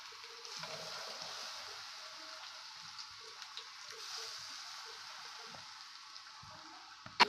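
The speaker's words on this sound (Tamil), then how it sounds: "சூடாகவே இதில் ஊற்றிட போகிறோம்." Hot tempering oil with curry leaves and onion poured over eggplant pickle gives a faint, steady sizzling hiss throughout, with soft scattered pops and clicks and no talking.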